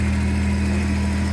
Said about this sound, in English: It's Monza exhaust, huh?